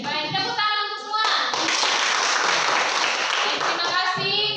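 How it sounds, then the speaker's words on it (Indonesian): A class of eighth-grade students claps their hands in a steady, dense round of applause lasting a few seconds, close and loud, with voices talking just before and after. "tepuk tangan untuk semua"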